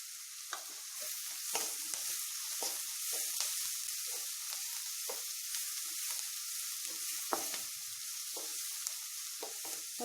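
Masala egg pieces sautéing in a pan, a soft continuous sizzle with frequent light stirring clicks and scrapes, fairly quiet and close, with no voices.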